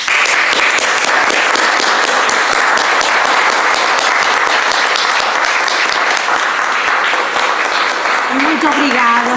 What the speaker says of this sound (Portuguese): Por isso eu peço uma grande salva de palmas.